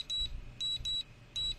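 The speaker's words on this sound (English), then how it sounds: "a faster double beep signal will sound, followed by an alarm horn" A vehicle breath-alcohol interlock gives its faster double beep signal, two pairs of sharp, high electronic beeps in quick succession over a faint low rumble, close and clear.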